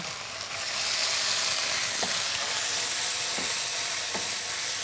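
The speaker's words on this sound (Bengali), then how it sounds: "যতবারই আমরা মশলা দিব কুষতে হবে এখন লবণটা দিব" Spices and salt sizzle while being sautéed in a pan for a Bengali home-style dish, a steady, loud, continuous frying hiss with a few faint stirring clicks and no voices.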